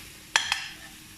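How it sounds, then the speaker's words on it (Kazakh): Metal spoon scraping and clinking twice against a pan while stirring buckwheat with meat in tomato paste, two quick close strokes followed by quiet. "жақсылап тұрып тағы да араластырамын"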